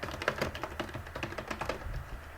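Quick bursts of typing on a computer keyboard, irregular clusters of light clicking keystrokes close up, entering values into a field, with no voices.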